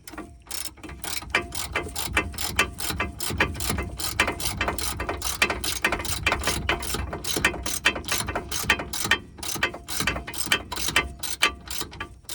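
A ratchet wrench with a 19 mm socket on a three-quarter drive works the shock bolts of an El Camino during air shock replacement, giving a continuous run of rapid, close, loud clicks with no talk.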